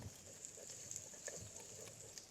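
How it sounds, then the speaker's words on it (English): Butter sizzles in a pan set over wood coals in a backyard cookout, a faint steady hiss with soft scattered pops and crackles close by. "And you can see there my butter is sizzling"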